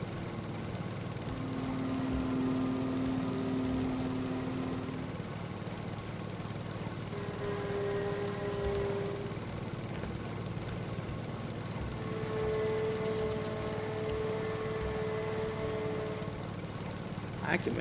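John Deere 72 lawn mower in the Farming Simulator 22 video game, cutting grass with a steady, continuous engine drone and tonal hum running throughout, with talk over it.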